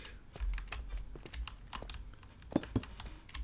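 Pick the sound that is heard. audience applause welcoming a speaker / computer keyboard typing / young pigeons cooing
computer keyboard typing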